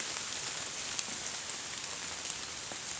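Steady rain falls in a forest, a dense even hiss with scattered drops pattering on leaves and surfaces nearby.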